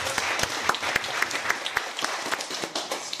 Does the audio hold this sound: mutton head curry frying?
no